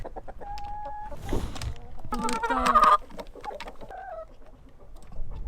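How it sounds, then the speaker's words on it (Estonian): Chickens in a farmyard cluck and squawk nearby in scattered bursts, with brief calls overlapping at moderate volume against quiet pauses and no talking. "Ma olen filminud kanu kusagil kõvasti üle 10 minuti järjest, ilma midagi vahele ütlemata."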